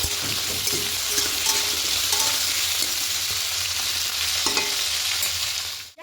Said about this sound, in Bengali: এবার আলুগুলো দিয়ে একটু হালকা লাল করে ভেজে নেব।